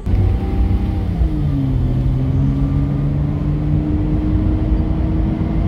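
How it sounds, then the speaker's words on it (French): Nissan GT-R Nismo engine heard from inside the car while driving through Tokyo at night with the windows open, a steady low drone with a slowly rising tone, continuous and fairly loud, with no talking. "Peut-être qu'on va entendre le bruit du moteur un peu mieux avec ça."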